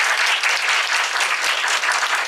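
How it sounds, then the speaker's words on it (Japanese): An audience at a book-launch lecture on child health breaks into steady, dense applause, clapping loudly and evenly throughout with no pauses and no voices. "拍手でお迎えください。"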